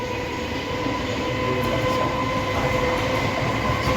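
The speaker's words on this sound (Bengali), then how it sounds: "এই আমার পিছন দিয়েই ট্রেন যাচ্ছে বুঝতে পারবেন দেখে আমাদের মেন লাইনের ট্রেন" A main line train passes just behind a house, a loud, steady close rumble of wheels on rails with faint metallic clatter, continuing unbroken throughout.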